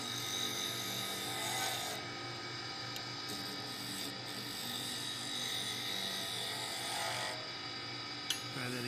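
A skew chisel's straight edge pares wood on a purpleheart mallet, a soft, continuous rasping scrape over a steady background hum, with a small tap near the end.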